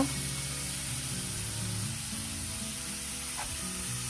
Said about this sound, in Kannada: ನಂತರ ಈರುಳ್ಳಿ ಹಾಕಿ ಫ್ರೈ ಮಾಡ್ತಾಯಿದ್ದೀನಿ